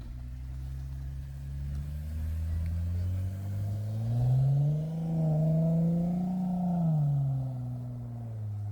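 A car climbs a snowy road in the Oregon Cascades during a winter storm, its engine droning low and close, then swelling as the revs rise midway before easing back to a steady hum.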